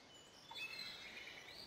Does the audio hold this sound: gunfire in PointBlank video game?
no